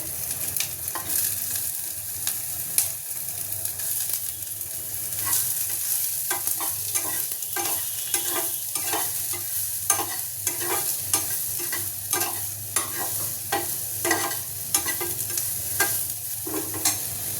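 Soya chunks fry and get stirred in a pan, a steady bright sizzle broken by repeated scraping and clattering strokes of the spatula, close and alone with no talk.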